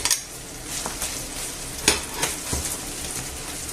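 Chicken with pepper and garlic fries gently in olive oil in a pan, giving a steady close sizzle broken by a few sharp scrapes and clinks of stirring, with no voices.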